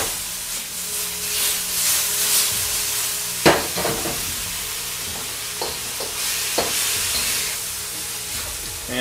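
Beef and broccoli stir-fry sizzling in a pan while being stirred, a steady close frying hiss broken by several sharp scrapes and clanks of the utensil against the pan.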